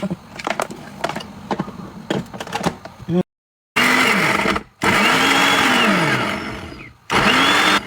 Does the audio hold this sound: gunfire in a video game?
no